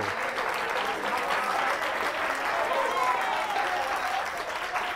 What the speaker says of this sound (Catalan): Aplaudiment per l'Àngel.